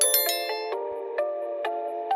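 Bright metallic notification bell dings ring out several times in quick succession, each strike sharp and then decaying, with no voices.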